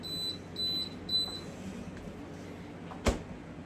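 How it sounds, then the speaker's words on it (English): Three short high-pitched electronic beeps from a refrigerator's door-open alarm repeat at a steady interval, fairly faint, followed by a single sharp knock or click; no talking. "My fridge does beep when I have the door open."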